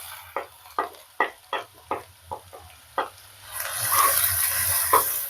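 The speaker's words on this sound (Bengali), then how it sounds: "জিরেগুলো ফুটতে শুরু করলেই আমি দিয়ে দিচ্ছি পেঁয়াজ চপ করা পেঁয়াজগুলো" Chopped onions go into hot oil with spluttering cumin seeds and dried red chillies. Sharp sizzling bursts come in a steady rhythm, then the pan settles into a loud continuous fry.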